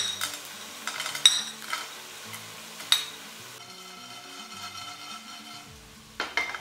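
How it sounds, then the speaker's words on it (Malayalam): Chicken pieces for a pressure-cooker biryani fry in hot oil with a soft continuous sizzle, broken by occasional clinks and scrapes of a metal spoon stirring in the pan. "നമ്മുടെ ചിക്കൻ വറുത്ത് കോരിയെടുക്കാം."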